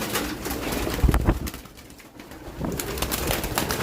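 Racing pigeons coo inside a loft among young birds, with low, soft calls coming in short bursts near the middle and a steady rustling background throughout.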